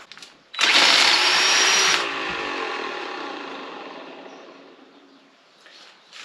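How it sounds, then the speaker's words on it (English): Removed Land Rover 300 Tdi alternator spun by hand, its worn bearings letting out a loud harsh whirring rush that starts abruptly, then slowly fades and winds down over several seconds, close up with no talking. "Yep, a little bit on the noisy side."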